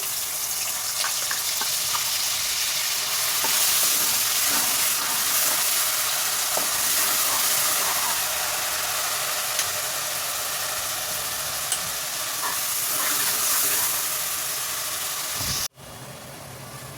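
Onion paste frying in a pan as the base for a goat trotters shorva, a steady close hissing sizzle that holds at a constant level, cut by a brief drop near the end.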